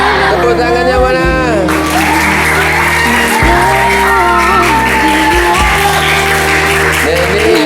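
Students at a junior high school art project event in Klaten, Java, clap loudly and continuously with scattered whoops and shouts, over steady background music.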